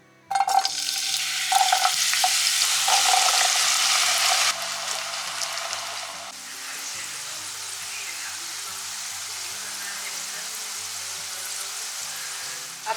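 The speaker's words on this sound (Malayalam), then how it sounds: "അപ്പം ഇതാ പൊട്ടറ്റോ ഫ്രൈ ആയിട്ടുണ്ട്, കണ്ടോ ശബ്ദം വരുന്നുണ്ട്" Potatoes fry in hot sunflower oil with a loud, close, dense sizzle that drops to a steadier, softer bubbling hiss after a few seconds and holds to the end.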